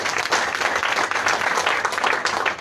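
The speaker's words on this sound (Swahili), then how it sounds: "Tupigie makofi" An audience applauds for a guest being honoured at a talk, with loud, dense clapping that holds steady through the whole moment.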